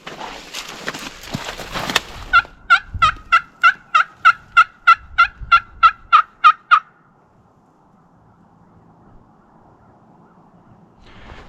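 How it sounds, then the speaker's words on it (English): Two wild turkeys gobble in a mountain setting during an Idaho turkey hunt, a rapid string of about a dozen loud, evenly spaced gobbling notes, with rustling before and quiet afterward. "So there's 2 birds that gobbled over here."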